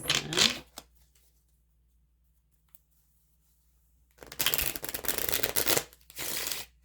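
Tarot cards are shuffled in two quick riffling bursts, a short one then a longer one after a stretch of near silence, close and crisp.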